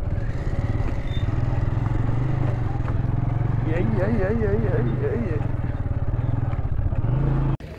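A motorcycle engine runs steadily nearby while it is parked under a tree, with people talking over the drone, and it cuts off abruptly just before the end.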